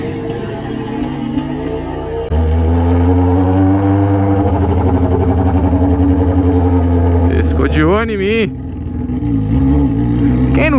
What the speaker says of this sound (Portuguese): Escapamento desse aqui, meu filho, é apocalipse.